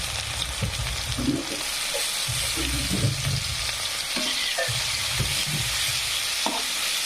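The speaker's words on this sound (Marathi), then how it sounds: "छान सर्व सामग्री अशी फ्राय होऊ द्यायची आहे आपल्याला" Chopped tomatoes with ginger, garlic and coriander paste frying in a pan for a cluster bean dish, a continuous sizzle broken by repeated scraping stirs, close and fairly loud with no talking.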